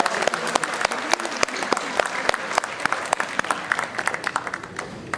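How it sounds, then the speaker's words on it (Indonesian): Audience applause at an academic oration for a university professor, a dense, steady clapping from a large crowd that continues throughout without voices. "Mari kita berikan aplaus sekali lagi untuk perjuangan strategic"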